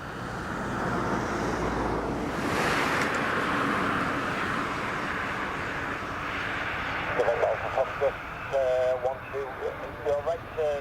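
A fixed-wing aircraft carrying the Dutch King taxis after landing at Carlisle Airport, a steady broadband engine roar with wind-like rush throughout, joined in the last few seconds by bursts of radio-style speech.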